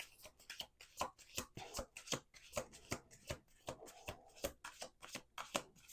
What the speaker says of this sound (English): let's do one more shuffle here